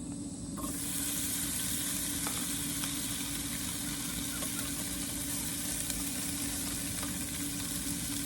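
Spam fries in a pan with a loud, steady, close sizzle that starts abruptly and runs unbroken, with faint scattered crackles and no talk.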